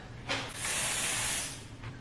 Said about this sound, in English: Right, I'm spraying it in my hand.